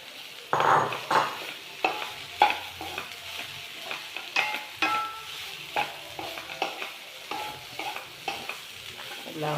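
Jackfruit thoran stirred in a hot pan, a spatula scraping in repeated close strokes over a steady sizzle of frying, with no talking.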